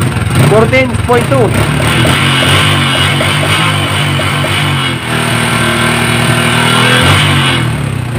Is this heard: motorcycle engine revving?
yes